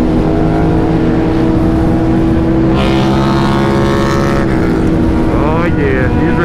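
Motorcycle engines roaring during an evening group ride that includes a stunt bike and a 600, a loud continuous drone with revving and shifting pitch as bikes pass close by, voices faint underneath.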